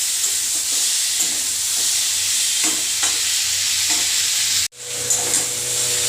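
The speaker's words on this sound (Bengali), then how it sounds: "দেখো পটল আর বেগুনটা আমি আলাদা করে ভেজে নিচ্ছি" Pointed gourd and eggplant fry in hot oil in a pan, giving a steady, close sizzle with occasional spatula scrapes and a brief dip in sound partway through.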